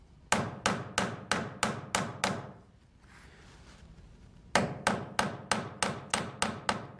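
Forging hammer striking silver wire on a metal block, with a run of about seven sharp, evenly spaced blows, a brief pause, then another steady series of seven close, loud strikes.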